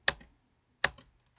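Two separate clusters of computer keyboard keystrokes, each a short sharp clack followed by a softer second tap, then a third key press at the very end, as a command is typed in a terminal shell; close and fairly quiet, with no talking.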